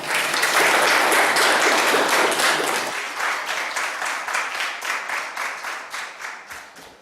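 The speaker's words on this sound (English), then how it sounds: "Big clap for him." University audience gives a keynote speaker a warm round of applause: a loud, dense burst of clapping that thins after a few seconds into fewer, rhythmic individual claps fading out.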